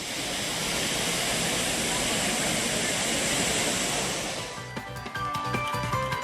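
Courtallam waterfall pours down in a loud, steady broadband roar of crashing water for several seconds while tourists bathe beneath it, then the rush drops away near the end into clattering, irregular sounds.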